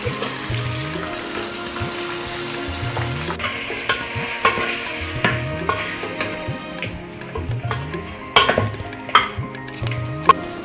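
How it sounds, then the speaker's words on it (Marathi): Chicken and finely chopped onion fry in hot oil in a pot, a loud, continuous sizzle broken by repeated scraping stir strokes and a few metallic clinks, with no talking. "तरी तेल गरम झाल्यावर बारीक चिरलेला कांदा तो टाकायचा. त्याच्यात आता चिकन टाकायचं आहे."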